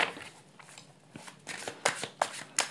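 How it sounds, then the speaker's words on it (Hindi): A deck of tarot cards shuffled by hand, close and quiet, with soft riffling swishes building into several sharper flicks toward the end. "थोड़ा सा शफल कर लेते हैं।"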